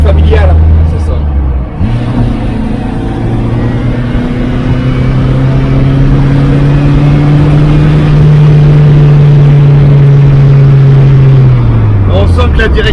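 A SECMA F16 small car engine drones loudly while driving, pitch rising and falling steadily as it accelerates and settles, close and continuous, with people talking over it.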